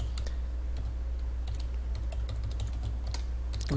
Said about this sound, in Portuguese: Estou digitando aqui, pessoal.